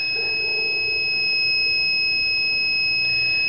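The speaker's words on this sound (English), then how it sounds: "I'm just going to turn my detector back on and get it time to acclimate" A refrigerant (Freon) leak detector switched on beside an air conditioning unit gives off a steady high electronic tone under faint background noise, holding continuously for a few seconds.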